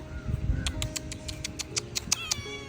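A cat meows in an outdoor garden setting, a series of short, fairly faint calls repeating at an irregular pace over low background noise.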